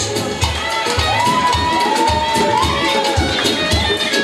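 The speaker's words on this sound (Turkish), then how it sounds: "Herkese alkış istiyoruz." A crowd at a celebration where cakes are being brought out cheers and claps steadily, with rhythmic pulses and a whistling tone running through the dense, continuous noise.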